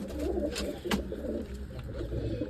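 Pigeons coo steadily in a rooftop loft as grain is scattered for them, soft low calls repeating close by over a constant murmur with no talk.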